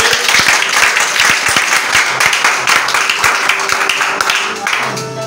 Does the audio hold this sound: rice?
no